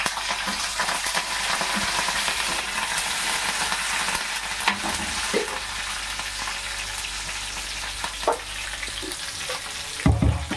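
Onions and curry leaves sizzle steadily in hot oil for a Nellore-style fish curry, with occasional stirring scrapes and clinks of the spoon against the pan over a continuous close frying hiss.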